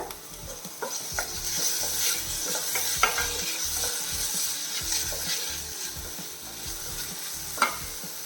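Finely chopped tomato sautés over a medium flame, with a steady sizzle under frequent scraping and stirring clicks in the pan, close and without voices.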